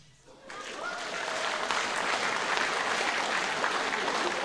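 After a quiet moment, a concert audience at a comedy parody show breaks into loud, dense, sustained applause that fills the hall and holds steady to the end.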